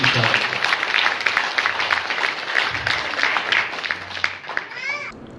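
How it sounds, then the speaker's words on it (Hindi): Audience applause at a Bihar political gathering, a broad crowd clapping that runs across the whole stretch with scattered voices mixed in before it thins toward the end. "एक जोरदार ताली बजाते हुए।"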